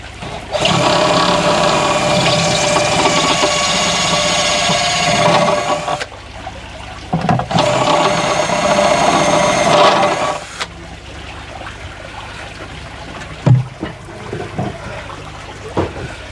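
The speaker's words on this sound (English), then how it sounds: "right, going to drill a hole now through the base." A power drill bores a hole through the acrylic base of a homemade shrimp tank in two sustained, loud whining bursts separated by a short pause, followed by quieter handling clatter.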